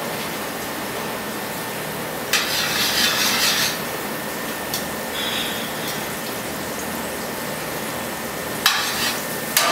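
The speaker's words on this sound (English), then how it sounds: "you want to make sure you're hearing that nice sizzling sound" Steady hissing sizzle of butter in a hot pan before scallops are added, with a few louder crackling bursts and scraping sounds over continuous frying noise.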